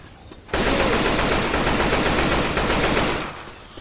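A loud, continuous burst of automatic gunfire in Left 4 Dead 2 VR, roughly three seconds of dense rapid shots that cut off abruptly, with no talk over it.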